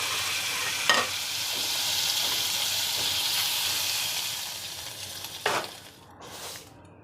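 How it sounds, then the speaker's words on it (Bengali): Hilsa fish pieces fry lightly in hot oil, making a steady, close sizzle and hiss, with a couple of sharper scraping stirs and a spattering burst near the end. "আমি ইলিশ মাছগুলো বেশি ভাজবো না, আমি হালকা ভেজে ইলিশ মাছগুলো তুলে নেব।"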